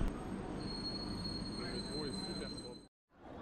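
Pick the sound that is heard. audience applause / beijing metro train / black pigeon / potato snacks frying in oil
beijing metro train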